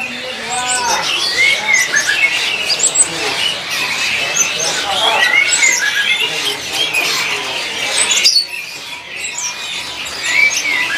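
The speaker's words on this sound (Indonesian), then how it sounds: "ada yang lagi bunyi dari jenis burung cacungko" A cacungko bird sings at a busy bird market, sharp rapid chirps and whistled phrases repeating close by over dense background chatter of other caged birds and people talking.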